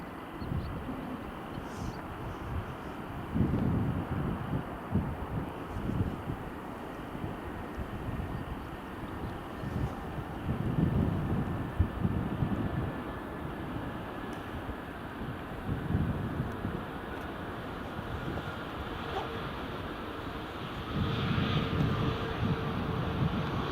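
A Ryanair airliner in from Paris Beauvais rumbles at Edinburgh Airport, a broad, steady jet roar with swelling gusts and wind buffeting the microphone, heard from some distance and without talk.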